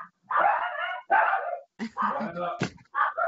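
Dogs from a household of five bark in quick, loud bursts close by, several yaps in a row with brief pauses between.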